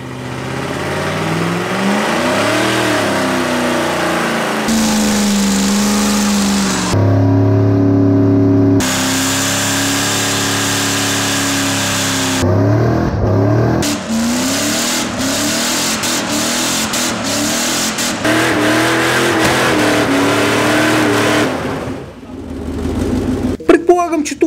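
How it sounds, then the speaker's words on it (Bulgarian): A Mercedes S500 with its mufflers removed revs hard and loud, its engine note rising and falling through repeated surges with bursts of near-constant roar, as during a burnout attempt, under talking voices. "Най-важният въпрос е дали S500 ще направи бърнаут без гърнета."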